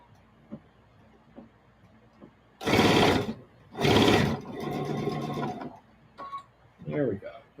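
A sewing machine chain-pieces jelly roll fabric strips at a 2 mm stitch length, running in two short, loud bursts of rapid stitching, with a person talking between and after them.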